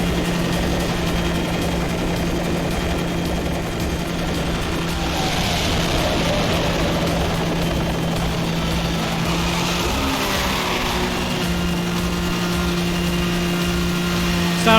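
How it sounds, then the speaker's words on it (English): A helicopter drones steadily in the Need for Speed Hot Pursuit racing game, its rotor tone sitting under a constant car engine roar with a brief shift in pitch partway through. "I thought I heard the helicopter."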